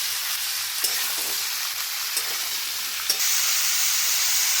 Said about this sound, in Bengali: এঁচোড়গুলোকে একটু ভেজে নেব।